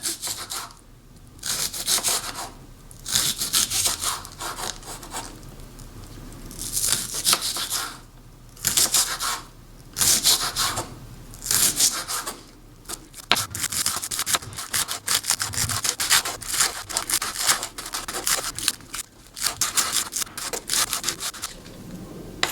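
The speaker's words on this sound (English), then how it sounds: "And then start cutting this very thin" A knife slices green onion very thin on a cutting board, bursts of rapid scraping, rubbing cuts in close rhythmic runs separated by short pauses.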